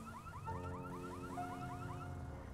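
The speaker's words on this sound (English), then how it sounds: "Is this an alarm going off in my car?" A car alarm going off inside the video game GTA V, its repeating rising electronic whoops and a steady tone cycling loudly and continuously, up close with no talking.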